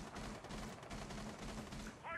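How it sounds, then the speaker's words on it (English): Rapid gunfire in the video game Rainbow Six Siege, a dense stream of muffled shots crackling continuously at low level throughout, with a faint voice near the end. "who's shooting so much?"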